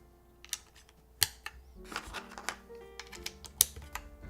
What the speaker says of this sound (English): I can tell the board feels nice just by putting on the keycaps here